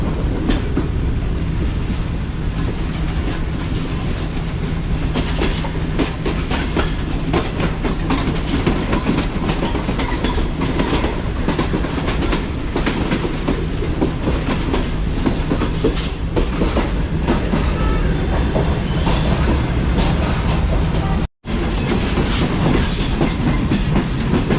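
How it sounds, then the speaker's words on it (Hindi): Tezgam passenger train running on main line track, a steady loud rumble with rhythmic clickety-clack of wheels over rail joints throughout, a brief dropout near the end, no talking. "ये ट्रेन ट्रैक चेंज करके मेन लाइन पर आ चुकी है अब"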